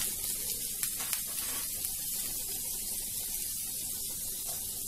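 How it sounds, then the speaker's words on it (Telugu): Ginger pieces and curry leaves fry in hot oil for black chickpea tempering, giving a steady, close sizzling hiss that fills the whole stretch with a few faint crackles on top. "కరివేపాకు వేసుకుని వేయించుకోవాలి."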